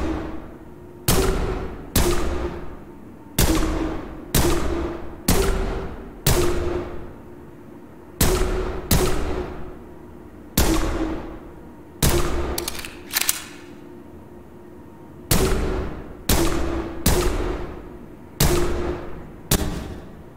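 Weapon gunfire in a prison simulator video game, loud single shots spaced at a steady, slightly irregular rhythm with short pauses, alone without talk.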